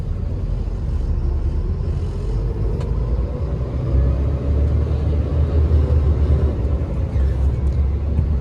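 Road traffic crawling in a jam on a highway, with dump trucks nearby: a continuous low rumble of engines, steady and fairly loud, with no voices.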